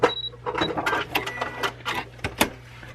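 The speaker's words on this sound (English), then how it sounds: "So we're just going to sew close to the edge, the folded edge, and back stitch." Sewing machine stitching close to the folded edge of a fabric face mask, with a short back stitch: a close, steady mechanical whir broken into quick bursts and clicks as the needle runs and stops.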